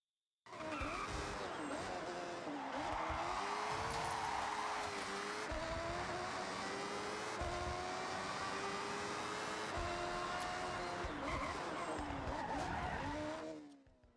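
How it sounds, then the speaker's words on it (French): A car drifts in Forza Horizon 6, tires squealing in a long continuous skid with wavering pitch over a steady engine roar, loud and sustained for about thirteen seconds before cutting off. "Dérape cette voiture, c'est un truc de fou."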